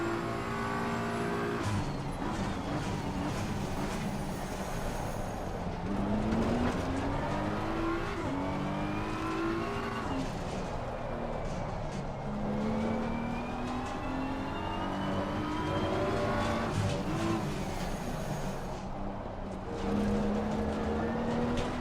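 Bentley race car engine in a racing video game, a continuous loud drone with repeated rising gear pulls and brief lifts as it shifts and accelerates along straights, heard alone without speech.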